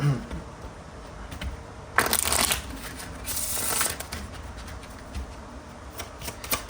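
A deck of tarot cards is shuffled close up, giving two rapid riffling bursts of crisp card flutter separated by quieter handling. The cards are heard alone, with no talk.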